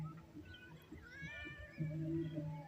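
A cat meows several times close by, drawn-out and plaintive, the last meow louder and longer, over faint background noise.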